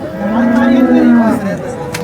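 A big cow gives one loud, long, close moo at the Sangola cattle market, lasting over a second before trailing off amid faint background crowd noise.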